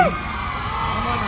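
A crowd at the grand launch of a jewellery showroom in T. Nagar, Chennai cheers and whoops in a continuous, fairly loud wash of voices, with a sharp whistle right at the start.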